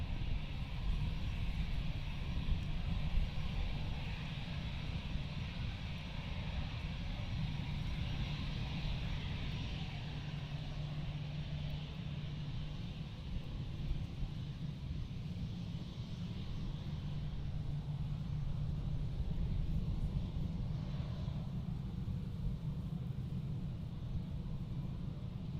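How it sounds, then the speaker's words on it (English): An EasyJet Airbus A320 bound for Glasgow moves along the runway at Amsterdam airport, its jet engines a steady, distant low rumble and whine that holds evenly throughout. "coming up to the runway now, we have the EasyJet A320 going to Glasgow"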